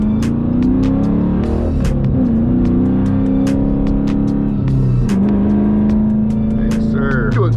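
A Dodge Challenger accelerates hard up an interstate on-ramp, its loud engine droning and climbing in pitch through the gears, heard close from inside the car with a brief dip and rise in tone midway and faint voices under the engine.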